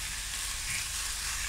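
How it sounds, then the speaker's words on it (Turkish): Minced meat fries in a pan, a steady hissing sizzle with soft crackle, close and continuous over a short stretch with no voices. "Ve kıymamı da kavuracağız şimdi."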